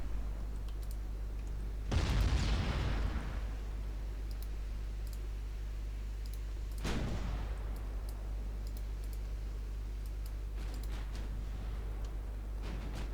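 Warship guns firing in the naval battle game Ultimate Admiral Dreadnoughts, two heavy booms several seconds apart, the first loudest, over a low steady hum with faint mouse clicks.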